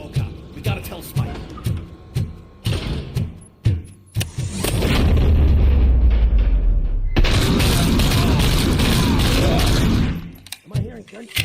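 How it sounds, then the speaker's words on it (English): Sharp bangs and crackling bursts of gunfire in the video game RoboCop: Rogue City, then a long dense roar of blasts and rumbling that cuts off abruptly near the end. "Am I hearing gunshots?"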